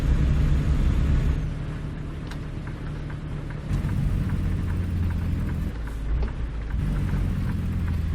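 Steady rain drums loudly inside a truck cab in the American Truck Simulator game, with low rumbling thunder and engine drone underneath and no talking.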